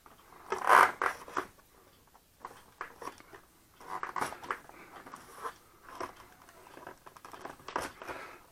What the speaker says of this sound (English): I need better scissors.